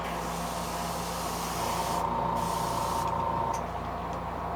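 An airbrush sprays paint onto a custom square-bill fishing lure, giving a steady close-up hiss with faint brief gaps, over a constant low motor hum from the compressor.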